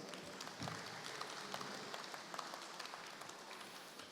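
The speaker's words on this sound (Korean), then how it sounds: "큰 박수 부탁드리겠습니다" A conference crowd at a Korean business academic meeting applauds as a session moderator is introduced, producing a steady, fairly distant wash of clapping that holds throughout without talk.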